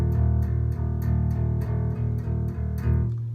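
Bass guitar strings plucked with a pick using only downstrokes, sounding as a steady, even run of sustained notes with sharp attacks, close and clear, with no talking.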